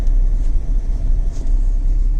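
A car's engine gives a loud, steady low rumble as the car slows to a stop during a driving lesson, with no speech.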